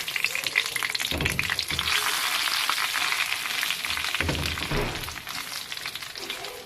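Cumin, cloves, black pepper and bay leaves sizzling in hot oil, a continuous crackling fry with occasional soft stirring scrapes, close and steady throughout.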